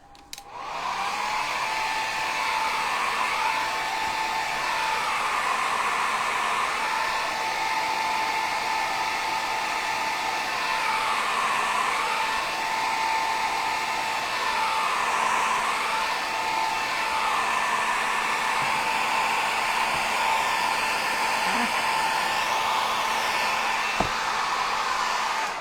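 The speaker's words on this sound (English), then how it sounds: "So I'm just going to blend it in and blow it dry." A blow dryer runs steadily and close by for the full stretch while drying a rub-on transfer craft project, giving a loud, constant whirring hiss with slight wavering in pitch as it moves, and no voices.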